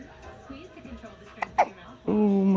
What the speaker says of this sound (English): You got your hiccups.